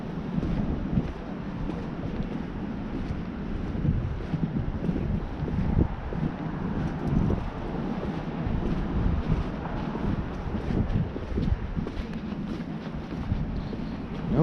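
Cold wind buffeting the microphone at the shore in Ocean Grove, New Jersey, a loud continuous low roar with gusty fluctuations throughout and no talking.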